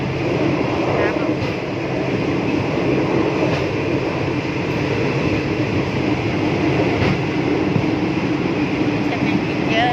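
A train runs steadily for the whole stretch, a loud continuous rumble of wheels and carriage heard from inside while passengers eat on board, with people talking over the noise.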